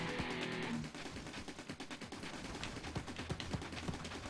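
Rapid blaster gunfire from the Steredenn shoot-'em-up video game, a steady stream of sharp repeated shots over busy game music and effects, with brighter louder bursts toward the end.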